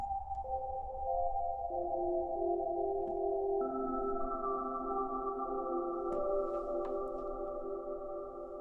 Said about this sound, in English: if I feed this something like a sine wave pluck